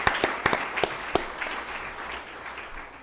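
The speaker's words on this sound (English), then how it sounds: "So a round of applause for everyone here." Audience applause at a debate forum held at a museum center, opening with a few sharp, distinct claps that blend into a moderate round and fade toward the end.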